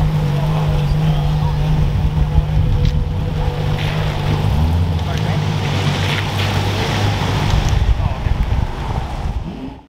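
A Ferrari LaFerrari supercar drives by on a rain-soaked road, its engine note held steady and then climbing and dropping midway, over a constant hiss of wet spray and wind.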